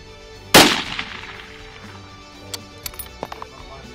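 A single loud, sharp .308 rifle shot cracks out close by on a safari hunt, its boom decaying over a second, followed by a few faint scattered knocks and clicks.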